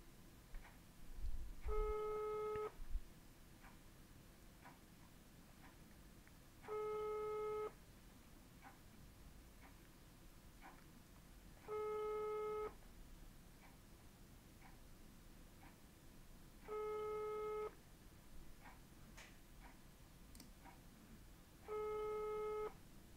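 A telephone ringing tone repeats at steady intervals, five evenly spaced bursts heard faintly over a line hiss, with soft ticks between.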